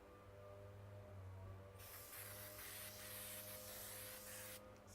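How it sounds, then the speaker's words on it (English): A can of spray adhesive hisses in one long continuous burst, close and steady, starting partway in and cutting off just before the end. "You spray the glue on"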